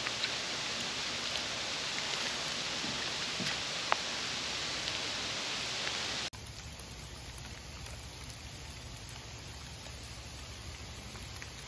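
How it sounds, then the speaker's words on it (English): Ice pellets fall and tick against trees on a cold day, heard from a kayak on the water: a soft, continuous granular patter with scattered sharper taps, faint and steady, dropping to a quieter hiss partway through. "Ice falling, raining ice, whatever it is."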